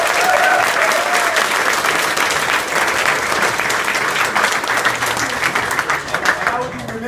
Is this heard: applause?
yes